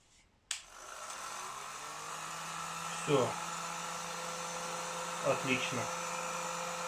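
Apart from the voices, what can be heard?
repaired KVT TT-2000 hair dryer running after reassembly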